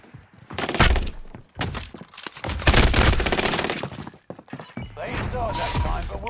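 Gunfire in the video game Warzone, bursts of rapid shots and heavy thuds in clustered volleys, loud and close, with a player talking over the firing.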